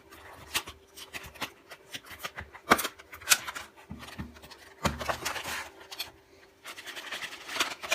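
Cardboard and plastic rustle and scrape as a sticky-sealed box holding a LifeProof nüüd case for the iPhone 6 Plus is pried open, with close, irregular tearing and rubbing bursts.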